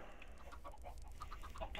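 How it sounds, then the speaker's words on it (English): Chickens cluck softly in short scattered bursts in a field full of them in Minecraft, faint against a low background hum. "as we walk through the field of chickens, there's always so many chickens here."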